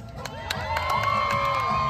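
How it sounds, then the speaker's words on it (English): Crowd at a fair cheering on the red team, with excited shouts and high whoops rising over a steady mass of voices and scattered claps. "Right, red team, you know what to do. Cheer them on."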